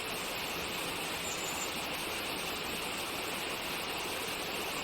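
A video game character urinating: a steady, continuous rushing of water like a heavy stream or waterfall, unbroken and fairly quiet, with no talking.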